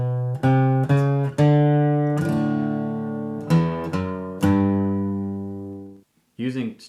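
Backup acoustic guitar bass run played with all downstrokes, a series of bright, close picked bass notes with some sustained ringing, ending in a short pause and a final strum.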